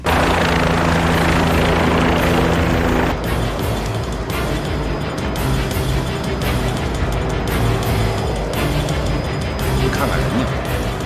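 A helicopter flying in with a patient to a hospital emergency center, a loud steady rotor and engine roar with rhythmic beating, continuous throughout, with some background voices.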